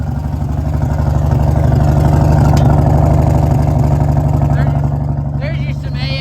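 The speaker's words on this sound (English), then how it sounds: "It's awake, just like always, and it's sitting there idling." A 1965 Ford Econoline van engine idles close by with a loud, steady, low throbbing rumble and a rhythmic mechanical chatter, staying even throughout.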